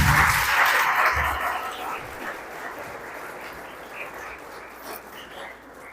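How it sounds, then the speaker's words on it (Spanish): A church congregation claps for the Lord during Sunday school, the applause loud at first and then fading into a scattered, thinning patter. "Denle un fuerte aplauso al Señor."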